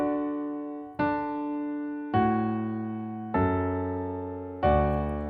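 Piano playing the last two measures of Pachelbel's Canon in D, five spaced sustained chords struck one after another, each ringing and slowly decaying, with deepening bass toward the end.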